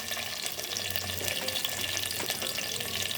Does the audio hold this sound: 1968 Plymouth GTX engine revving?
no